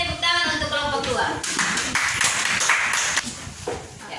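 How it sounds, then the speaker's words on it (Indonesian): Classroom applause for a student group during a school lesson, scattered hand claps running throughout, mixed with children's voices and chatter close by. "kita berikan tepuk tangan untuk kelompok 2"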